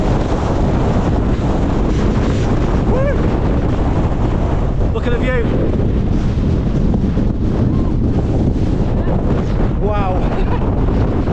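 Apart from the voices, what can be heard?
strong wind on a mountain summit, Langdales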